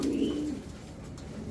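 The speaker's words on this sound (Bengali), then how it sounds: "এটা জাস্ট আপনার একটা ক্রস বিট কবুতর।" A crossbred pigeon coos in a low, throaty rolling call at the start, fading into soft background murmur, close by with no talking.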